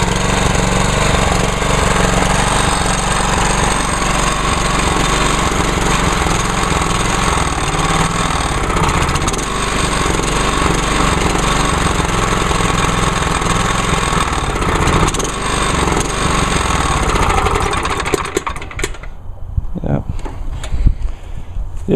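A lawn mower engine runs hard at full throttle, a loud, steady, rough droning roar held close for most of the stretch before it suddenly drops away near the end, leaving a few scattered knocks and rattles.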